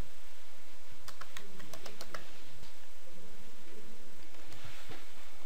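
Typing on a computer keyboard: scattered clusters of quick, crisp key clicks, close and fairly faint over a steady hiss.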